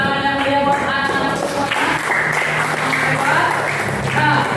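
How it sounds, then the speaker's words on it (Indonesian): Applause from a classroom of children, loud and sustained clapping throughout, mixed with chatter and raised voices. "Sekali lagi tepuk tangan yang meriah buat anak-anak"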